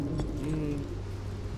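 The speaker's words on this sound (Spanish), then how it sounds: "esa especie de canto como de ballena, es del ser ese flotante que vimos cuando ingresamos a esta zona" Whale-like song of a floating creature in the video game Ashen, heard as low, sustained tonal moans with a brief rising call, moderately loud over a steady ambient rumble.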